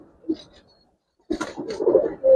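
A khaki female Giribaz pigeon coos close by, a short soft call followed after a pause by a longer, louder burst of throaty cooing.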